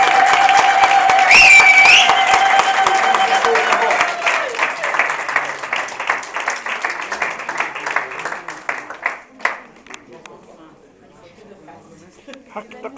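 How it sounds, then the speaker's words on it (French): Wedding guests at a reception applaud, a dense crowd clapping that runs for several seconds before thinning into scattered claps and fading, with a high-pitched tone and voices mixed in near the start. "on peut encore applaudir."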